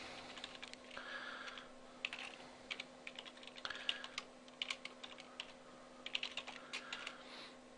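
Someone types a password on a computer keyboard, a quiet run of uneven, rapid key clicks in short bursts with brief pauses between them.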